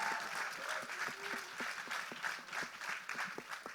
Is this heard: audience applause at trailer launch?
yes